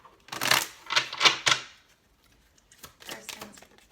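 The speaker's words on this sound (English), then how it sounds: "Last shuffle." Tarot cards being shuffled by hand, two quick bursts of riffling and flicking, the first louder and rapid, then a short pause before a softer second round.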